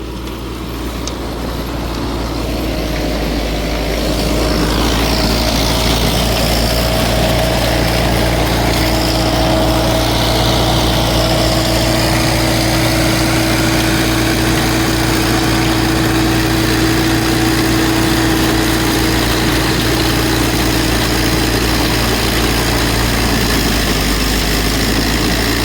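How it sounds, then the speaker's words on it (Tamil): A Sonalika Tiger 75 CRDI tractor engine runs steadily close by, its own Sonalika engine driving a PTO banana mulcher through rotten banana stems, with a deep constant drone and a mechanical whine layered over it, and no talking. "இன்ஜின் பார்த்தீங்கன்னா இதில் சோனாலிக்காவோட ஓன் இன்ஜினுங்க."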